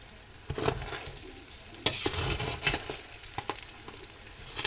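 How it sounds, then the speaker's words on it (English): Browned hamburger meat being stirred in a pot for chili, with scraping, shuffling strokes around 0.6, 1.9 and 2.7 seconds over a soft, steady sizzle, fairly close and without voices. "let me stir this up."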